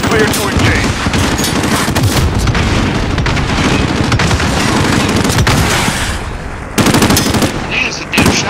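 Heavy automatic gunfire and booming blasts in the Modern Warfare video game, with a helicopter under fire, pound loudly and almost without break, briefly cutting out before bursting back in near the end.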